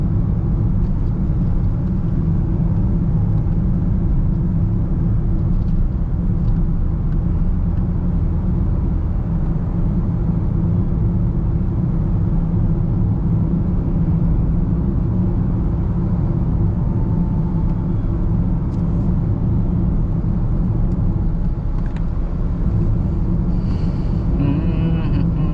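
Midday traffic on the NLEX expressway, heard from inside a moving car as a loud, steady low road rumble and engine drone, with faint passing-vehicle noises toward the end.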